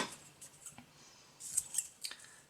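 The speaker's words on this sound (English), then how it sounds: "now we can fasten off and cut the yarn" Scissors cut crochet yarn after fastening off a flower, giving a few faint close snips and soft handling sounds in a quiet room.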